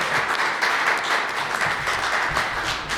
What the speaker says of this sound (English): Let's have another round of applause for the man of the hour.